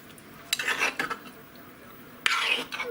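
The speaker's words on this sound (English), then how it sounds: "So let's just kind of give this all just a quick little mix." Orange glazed beets get tossed with a utensil in a bowl, two short bursts of scraping and clinking stirring separated by a quiet gap, close by and moderately soft.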